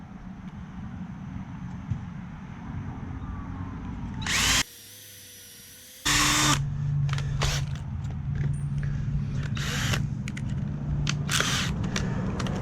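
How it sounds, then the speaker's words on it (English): A power drill spins a 1/8 inch bit into a 2x4 while pre-drilling holes for a workbench, a steady loud whine with a brief stop and restart, followed by bursts of clicks and handling noise. "pre-drilling the holes with this drill bit, this is the 1/8 size drill bit"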